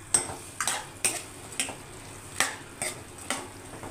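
A spoon scrapes and clinks against a pan while potatoes and chana dal curry are stirred, several sharp metallic taps spaced irregularly, fairly close and quiet.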